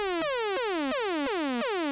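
A synthesizer fires repeated ray-gun zaps, six falling pitch sweeps in a steady loud rhythm with bright buzzy overtones and no voices.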